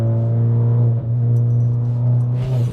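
A Volkswagen Golf R with upgraded brakes drives along, heard from inside as a loud, steady engine drone with a strong low hum and one brief dip in tone, and no talking.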